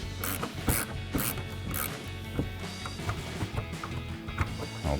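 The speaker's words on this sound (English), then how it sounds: "you can take an 18mm ratcheting wrench and remove your nuts" An 18mm ratcheting wrench removes strut nuts on a Sierra 1500 front strut assembly, giving repeated rapid ratchet clicks in short bursts, close and moderately loud, with metallic clanks between strokes.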